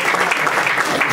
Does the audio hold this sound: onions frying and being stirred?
no